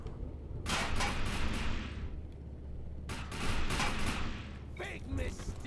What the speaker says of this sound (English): Let me show you guys the shotgun.